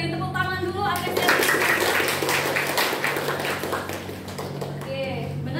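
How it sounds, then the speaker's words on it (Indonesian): Applause from a classroom of students during a teaching simulation, a steady spread of clapping lasting several seconds with some voices mixed in. "Boleh diberi tepuk tangan dulu apresiasi."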